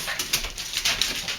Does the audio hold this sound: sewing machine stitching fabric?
no